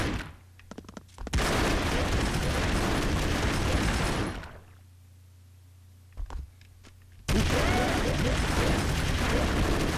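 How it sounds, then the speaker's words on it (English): The Broforce video game erupts in loud bursts of rapid gunfire and blasting explosions, with two long dense barrages separated by a quieter lull that holds only a few short pops. "Just shoot them and then they explode."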